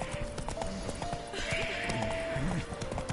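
Roach the horse galloping in The Witcher 3, with rapid rhythmic hoofbeats close up and a whinny partway through, over ambient game sound.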